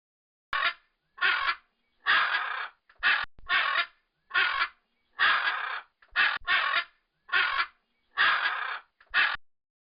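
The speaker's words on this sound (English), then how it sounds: "Macaw." A macaw gives about a dozen harsh, raspy squawks in a steady, evenly spaced series, each call short and loud, with no other sound between them.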